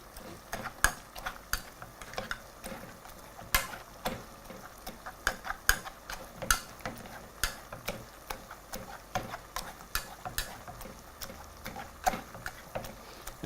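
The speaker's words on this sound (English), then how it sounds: "proceed to mash until your chunks of potatoes are completely disappeared" Boiled potatoes being mashed for Kenyan mukimo, a steady run of close, sharp knocks and squelchy taps repeating about once or twice a second over a quiet kitchen background, with no talking.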